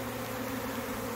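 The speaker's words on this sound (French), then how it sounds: "on voit les abeilles qui rentrent" A honeybee swarm returning to its hive, a steady, droning hum of many bees buzzing together close by, even and continuous throughout with no voices.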